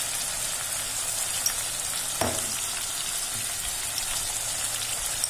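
Mutton masala frying in hot oil, a steady close sizzle with a brief stir or clatter partway through.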